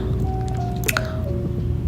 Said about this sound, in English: banana bread mix, mixing it up well, giving it a good stir